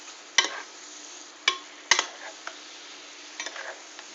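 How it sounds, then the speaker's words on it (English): Shrimp sizzle steadily in garlic-flavored olive oil while a utensil stirs the pan, sending several sharp scraping clacks over the constant close frying hiss. "we got a nice sizzle going here. Shrimp cooking up nice and light"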